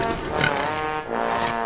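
Pigs on a cartoon pig farm make grunting, squealing calls in a few close, drawn-out bursts, without talk over them.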